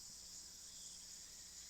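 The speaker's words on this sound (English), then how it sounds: "I can hear the chirping of cicadas from the few trees growing here" Cicadas buzz in a few trees at a small shrine, a continuous high, faint drone with no break and no voices.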